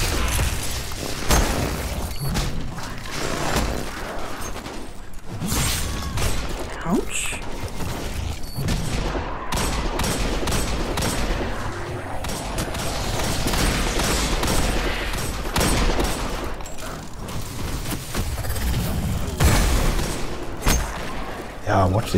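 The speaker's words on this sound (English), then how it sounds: "Watch these shankies explode" Shank enemies blowing up in Destiny 2, a dense stream of crackling blasts, gunfire and mechanical clatter running steadily and loud, with excited talk over parts of it.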